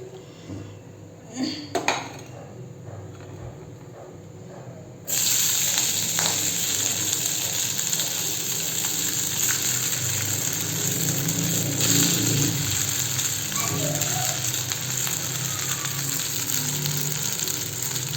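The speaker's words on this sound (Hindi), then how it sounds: "तेल गरम हो गया और मैं फर्स्ट इसमें सॉसेस फ्राई करूँगी।" Sausages dropped into hot oil in a pan: a few utensil clinks and knocks in a quieter start, then a sudden loud, steady sizzle that carries on for over ten seconds with faint stirring, no talking.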